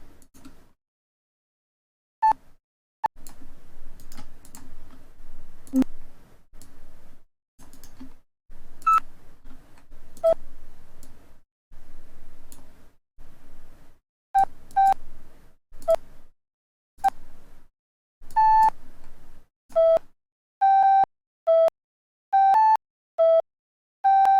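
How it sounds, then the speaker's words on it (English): Synthesized flute notes in a home-production session, a series of short tonal beeps that grow denser toward the end, each note cut off with a clipped click. "This flute has a weird clicking noise at the end of it."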